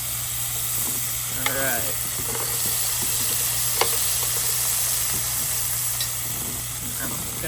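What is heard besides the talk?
small shrimp sizzling in a pan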